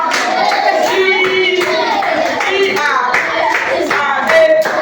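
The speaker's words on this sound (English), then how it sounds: "Clap your hands. Clap your hands." Children clap their hands in a steady rhythm, close and loud, along with a sung nursery rhyme in Igbo and Yoruba at a language school, with young voices singing throughout.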